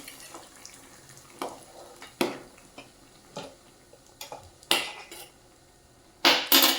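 Asafoetida being stirred into an eggplant and potato bhaji in a pan, heard as scattered scrapes and clinks of a spoon on cookware with a few sharper knocks, moderately close, with no talk.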